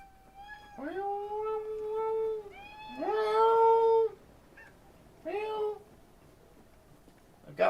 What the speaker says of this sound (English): I've got both my cats in here meowing at me.